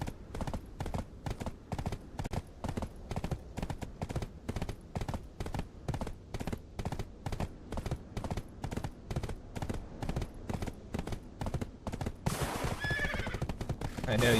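A horse in Black Desert Online gallops with rapid, rhythmic hoofbeats that repeat steadily and closely, then a burst of neighing and scraping breaks in near the end; a voice is faintly present underneath.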